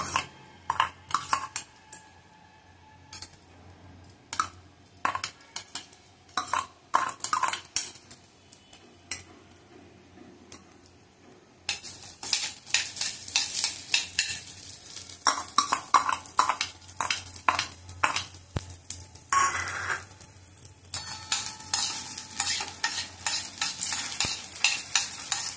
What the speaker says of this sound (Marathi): तांदूळ थोडे आपल्याला भाजून घ्यायचे।